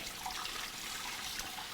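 Soaked legumes, kidney and pinto beans, being rinsed under running water, giving a steady splashing, trickling hiss that stays fairly quiet and continuous with no voices.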